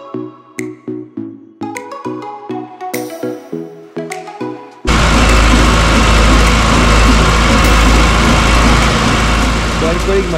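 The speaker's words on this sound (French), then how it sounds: "Le collègue m'a filé son tracteur et son épareuse, c'est un 2650" A John Deere 2650 tractor fitted with a hedge-cutting flail mower starts up and settles into a loud, steady close-up idle, after a run of sharp metallic clicks and taps.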